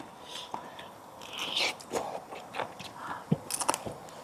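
Someone bites and chews a king prawn with its shell on, giving close, crisp crunches and cracking snaps in short irregular bursts near the mouth.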